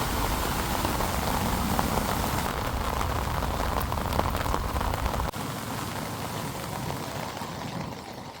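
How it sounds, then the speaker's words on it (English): Steady drizzling rain pattering on surfaces in a walled old city in Manila, a constant close hiss of drops with no voices. "it's still drizzling."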